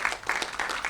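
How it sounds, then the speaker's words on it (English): Audience applause for a brave live cloud IoT software demo at a tech conference talk, a short burst of clapping from a crowd, fairly even and moderately loud throughout. "Shameless round of applause for Jim for a live demo."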